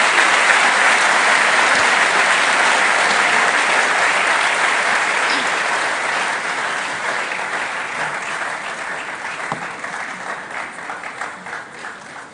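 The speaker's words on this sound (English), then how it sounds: "Another resounding round of applause for our year's valedictorian." Sustained audience applause for the class of 2024 valedictorian at a university engineering graduation ceremony, a dense, loud wash of many clapping hands that slowly thins and fades over about twelve seconds.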